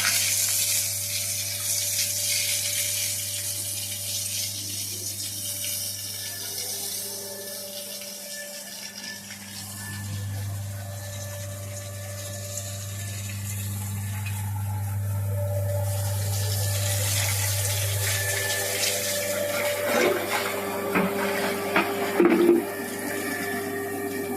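Water runs and splashes steadily for a long stretch onto flowering plants, a continuous rushing hiss with a low hum, shifting as the flow moves.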